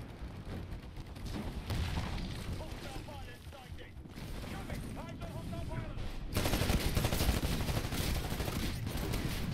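Shotgun and weapon fire during a Titanfall beta deathmatch, a run of sharp gunshots with mechanical clanks, growing denser and louder near the end over a busy game soundscape.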